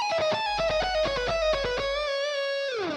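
Electric guitar shred lick, part six of a solo exercise: a quick run of picked single notes, bright and clear, ending on a slide up into a sustained held note that fades, played alone.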